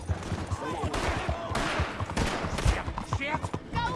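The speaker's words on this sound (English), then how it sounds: "Why are you shooting me?" Gunshots from the video game Red Dead Redemption II ring out in a quick irregular series of sharp cracks over a noisy in-game mix, with voices talking between the shots.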